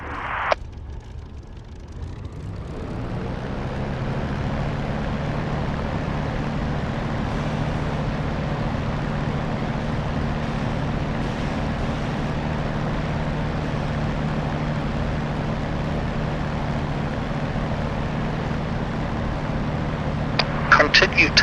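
A Spitfire aircraft taxiing on a taxiway gives off a steady, loud, low engine drone that holds constant throughout, with a brief burst of other noise at the very start and end.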